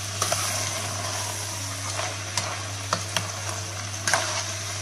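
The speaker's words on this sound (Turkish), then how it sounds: "Fasulye de kavurun arkadaşlar, hepsini bu şekilde." Dried beans and sliced sucuk stir-fried together in a pan, giving a steady sizzle broken by several sharp scraping clicks of the spoon, with no voices.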